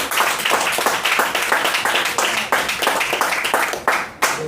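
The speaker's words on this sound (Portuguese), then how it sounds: "Aplaudir Jesus." A church congregation at a Portuguese-language prayer service claps and applauds together, a dense, steady run of hand claps that carries on for several seconds before tapering off near the end.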